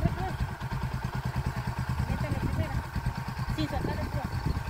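A motorcycle engine runs close by with a steady low throb and a few small rises in revs, while people talk over it throughout.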